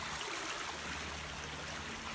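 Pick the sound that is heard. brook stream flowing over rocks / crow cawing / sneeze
brook stream flowing over rocks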